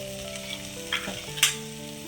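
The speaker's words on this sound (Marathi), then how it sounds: "मी कांदा टाकलाय त्याच्यामध्ये थोडस तेल टाकलंय मी" A medium-sized onion fries in a little oil for street-style masala shev bhaji, a constant close sizzle with a couple of sharper stirring scrapes, over faint background music.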